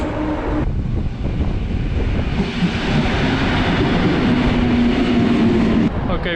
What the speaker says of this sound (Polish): Teraz pojadę e, stąd pociągiem do Gdyni Głównej